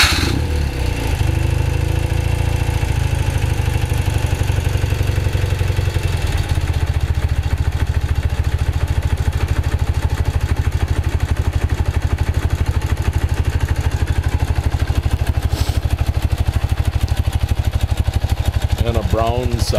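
A 1972 BMW R75/5 motorcycle with freshly Nikasil-plated cast cylinders runs steadily for the whole stretch, a loud, close, even engine throb with slight shifts in pace and no talking over it.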